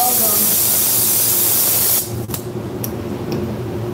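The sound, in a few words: spray gun spraying clear coat on a Tesla at 30 PSI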